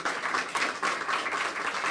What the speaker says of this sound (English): I hope you all will give these guys a round of applause for coming today